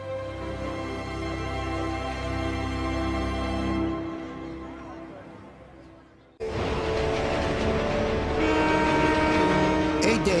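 The Maharajas Express luxury train rolls through India with a steady, loud rumble and sustained horn-like tones, then cuts abruptly to a harsher, louder rolling roar of wheels and carriages.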